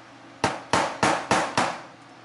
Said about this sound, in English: See if I can get it out with this baby hammer we've got going on.